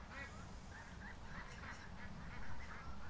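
Geese in a pen honk repeatedly, faint and somewhat distant over a steady background rumble, with a slightly louder cluster of calls toward the end.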